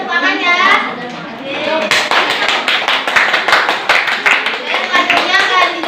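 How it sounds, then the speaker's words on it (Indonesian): Students in a classroom clap after a group presentation, with a voice speaking briefly before a burst of brisk, close, somewhat uneven clapping from a small group that continues steadily to the end. "Boleh tepuk tangan ya."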